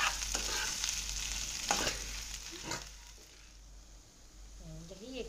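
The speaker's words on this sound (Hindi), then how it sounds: "सबसे पहले तो फ्राई मिर्ची" Green chillies fry in oil for bread pakora stuffing, a faint, steady hiss with a few soft stirring clicks that fades over the clip, and a voice speaks briefly at the end.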